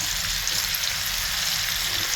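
Chicken thighs sizzling steadily in a pan just after being flipped, a close, even, continuous frying hiss with crackle and no talk.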